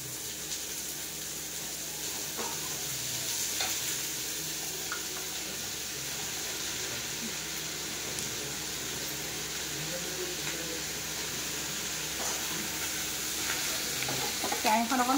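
Taro pieces frying in a small wok, with a steady sizzle and occasional stirring scrapes throughout, close and moderately loud, and no talking.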